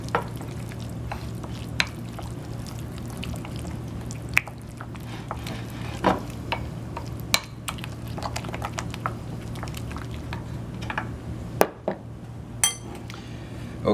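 Ingredients with fresh lemon juice being stirred together in a bowl for a fish po' boy, a quiet, wet squishing and mixing with scattered spoon clicks against the dish over a low steady hum.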